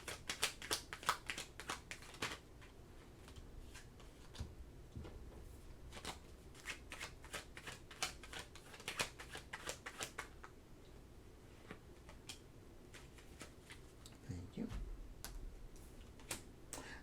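A deck of oracle cards is shuffled close up, giving quick papery riffles and soft flicking ticks in irregular bursts, quiet and alone with no talking.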